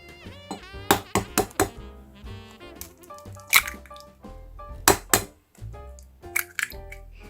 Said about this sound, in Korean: 먼저 계란 2개를 깨 줄게요